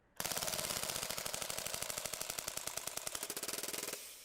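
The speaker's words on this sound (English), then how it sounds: "it's a 2-round burst" A Krytac KRISS Vector gas blowback airsoft prototype fires a very rapid, sustained string of sharp mechanical clacks lasting nearly four seconds before stopping. The shots are close and loud, with no talking.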